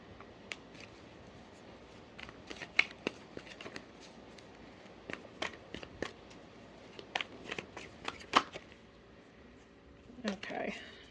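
Tarot cards being shuffled by hand, a run of quick papery riffles and flicks in irregular bursts, close and soft, with a longer shuffle near the end.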